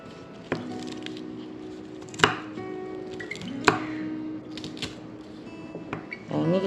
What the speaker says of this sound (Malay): Potong sawi dulu, lepas tu kita basuh bersih.